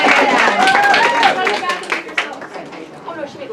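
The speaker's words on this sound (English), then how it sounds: "Can we give Lauren a round of applause?" An audience at a self-care summit gives a round of applause for a speaker, a dense burst of clapping mixed with chatter that thins out over a few seconds.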